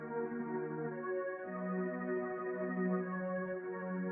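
Korg Triton tremolo string pad with its high end cut by EQ, a warmer, duller sustained chord that shifts once partway through, quiet and alone.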